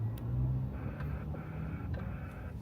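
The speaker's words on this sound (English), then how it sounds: "Do like the car noise, right? There's a lot of people traffic right now." A car passes nearby with a low engine hum that rises briefly then settles, over faint background traffic; no talking.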